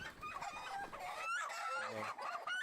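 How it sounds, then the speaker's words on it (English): Chickens on a farm raising around 2000 birds cluck and call in a busy, overlapping chorus, with one lower rooster-like call briefly standing out, fairly faint overall. "This is a chicken, folks."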